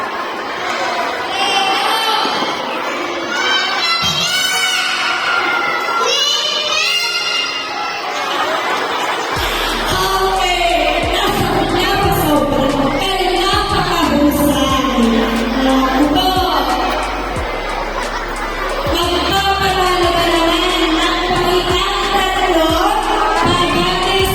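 Students at a Buwan ng Wika school celebration shout and cheer in a dense, continuous crowd roar. Overlapping young voices rise and fall for the whole stretch, with chatter mixed in throughout.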